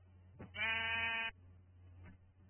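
A single Minecraft sheep bleat, a clear wavering baa lasting under a second, rises over a faint background hum.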